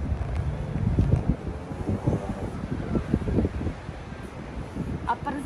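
Strong wind buffets the open, netted-in top deck of Blackpool Tower in cold weather, producing a continuous gusty roar and rumble against the microphone.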